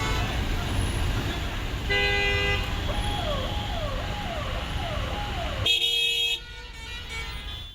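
Heavy traffic jam on a national highway between Pedda Kaparthi and Velimineedu, with car horns tooting repeatedly in short patterned bursts over a steady roar of idling and moving vehicles close by.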